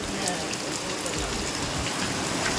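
Heavy monsoon rain pours down in Ratnagiri on the Konkan coast, with wind picking up: a dense, steady, close hiss of rain beating on surfaces, unbroken for the whole stretch.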